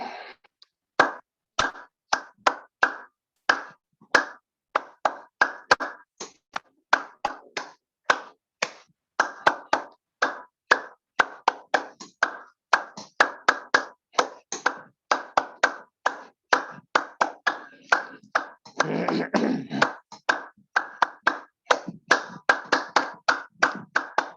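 Rhythmic hand clapping repeats steadily through a morning yoga session, crisp, close and loud claps in an even pulse with only brief pauses.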